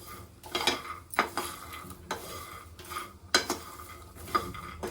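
Peanuts being dry-roasted and stirred in a pan for jaggery peanut ladoo, with a spoon scraping and clinking against the metal in irregular strokes, close and fairly quiet, no talk.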